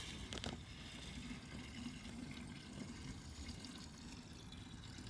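Water draining from a gold prospecting pan at a creek, a steady faint trickle and wash of liquid running for several seconds with a brief splash near the start, no talk.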